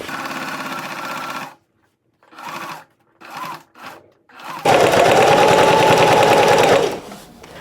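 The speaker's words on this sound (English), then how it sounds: "we're gonna finish sewing both of the straps up on both sides" A sewing machine stitches vinyl straps for a grocery bag in a loud whirring run, then several short stop-start bursts, then a long steady stretch, with no talk over it.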